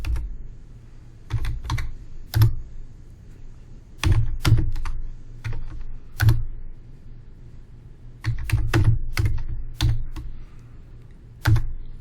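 Keystrokes on a computer keyboard while commands are entered in a cloud instance's terminal, with irregular clusters of crisp clicks and occasional heavier thunks, close and fairly quiet, with short pauses between bursts.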